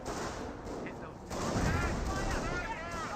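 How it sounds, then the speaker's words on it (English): Panzer Grenadiers firing from cover in the strategy game Company of Heroes: bursts of rifle gunfire crackle at moderate volume over a busy battle din, with a denser volley toward the end. "Panzer Grenadiers here are still firing away and from a good position."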